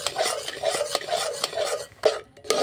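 A spoon stirs a thick pumpkin laddu mixture in a pan with steady rhythmic scraping strokes, close up, with a faint sizzle beneath and no talking.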